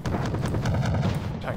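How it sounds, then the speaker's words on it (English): Artillery fire in the strategy game Wargame: Red Dragon, a dense continuous rumble of booming blasts filling the whole short stretch, loud and close without pause. "And that's artillery, okay."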